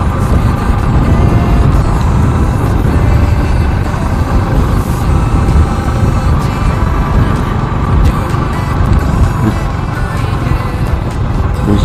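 A vehicle drives close by on a road near a beach, with a loud, continuous engine rumble and road noise that stays steady throughout.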